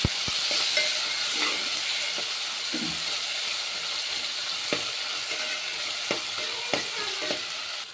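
Tomatoes sizzling and frying in a pan for rasam, steady hiss with scattered clicks and taps of a utensil stirring, close and fairly loud, no talking.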